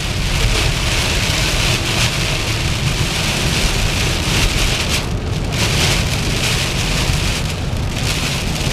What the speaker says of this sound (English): There's that rain again.